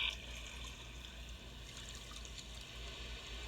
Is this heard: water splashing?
yes